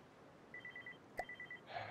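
Faint electronic telephone ringing comes in two short bursts of rapid beeps, broken by a brief sharp click, in a quiet room.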